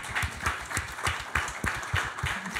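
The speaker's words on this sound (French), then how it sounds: "Donc applaudissons ma femme." An audience at a lecture on the Gömböc mathematical shape claps steadily, with a soft, even patter of many hands throughout and no voices over it.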